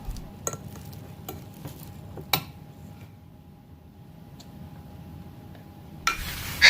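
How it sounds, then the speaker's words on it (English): Bananas mashed with a steel spoon in a bowl, sparse soft squelches and sharp clinks of metal against the dish, separated by quiet pauses, with a louder clatter at the end. "Mash the bananas with steel spoon."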